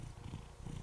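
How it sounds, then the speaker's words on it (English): A cat purrs close by in a brief, soft, low rumble that rises and falls with its breathing, with no other sound. "So that's a cat purring."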